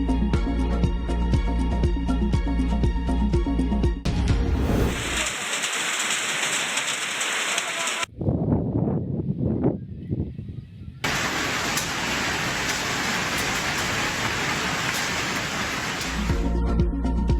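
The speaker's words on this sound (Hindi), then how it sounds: "तूफान, यालाबारी और मूसलाधार बारिश निज़ाम ज़िंदगी दरहम बरहम।" Heavy rain pours in a dense, steady hiss during a thunderstorm with dust winds and hail, with a rumbling gust in the middle section. The downpour is loud and continuous throughout.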